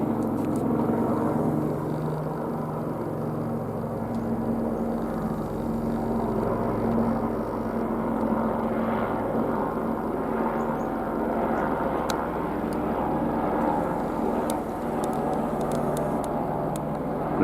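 A propeller aircraft descends in a turn overhead near a mountain, a steady broadband engine drone holding throughout, moderately loud and continuous without speech.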